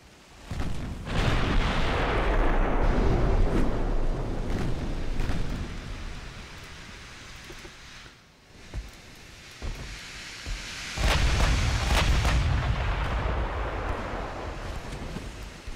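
Battleship guns firing in the naval game Ultimate Admiral Dreadnoughts, deep booming blasts that roll into long rumbling washes, two big salvos separated by a quieter lull, with no talking.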